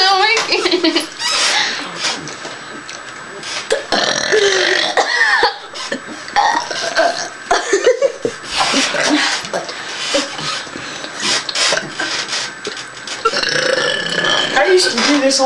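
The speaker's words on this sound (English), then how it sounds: "I'm tired of burping." Loud, repeated burps at a burping contest, several long croaking belches spread through the clip, with people talking and laughing between them.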